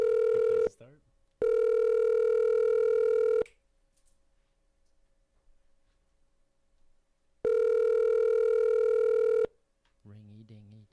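A telephone rings with two long, steady electronic tones separated by a pause, loud and clear, followed by brief voices at the end.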